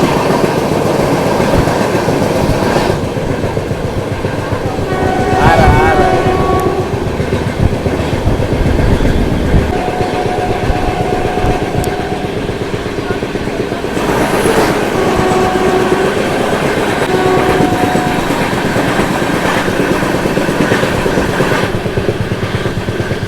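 A Vande Bharat train rushes past on the neighbouring railway track, a loud, continuous rumble of wheels with rhythmic clatter and a few brief horn-like tones, heard close by from a stationary train with no talking.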